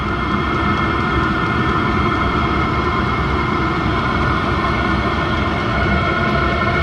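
A Maxpeedingrod 5 kW diesel heater runs in turbo mode with a loud, steady, close roar of rushing air and combustion that holds constant throughout.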